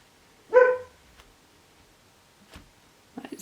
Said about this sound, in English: That's my demon dog Rain barking in the background.